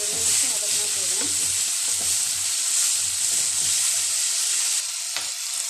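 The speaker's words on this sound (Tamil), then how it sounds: "எல்லாத்தையும் சேர்த்துட்டு நல்லா ஒரு 2 நிமிஷம் வதக்கலாம்." Chopped onion and tomato sauté in a pan for uttapam chutney, giving a steady bright sizzle with soft spoon scrapes and stirring knocks in the first few seconds before settling into an even hiss.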